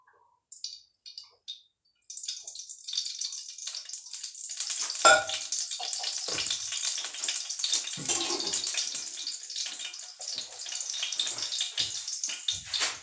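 Mustard oil poured into a hot kadhai on a gas stove: a few faint clicks, then a loud, near, continuous pouring sizzle that hisses steadily for about ten seconds with small crackles, and no talking.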